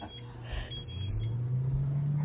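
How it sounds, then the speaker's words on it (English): An air fryer starting up after its buttons are pressed, giving a short electronic beep before a steady low hum rises and holds close by. "Click the air fry button. Click, click start."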